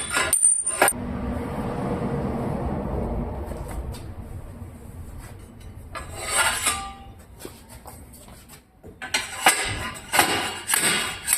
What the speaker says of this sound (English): I just kind of slam the frame down, and it just pops these things right out